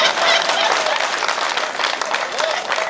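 Audience applause and cheering at a Hindi comedy poetry show, dense and steady from start to end, with a crowd voice riding over the clapping.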